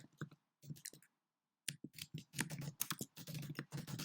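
Close, quiet clicking of keys on a computer keyboard while entering a terminal command, with short bursts of keystrokes, a pause, then a denser run of typing.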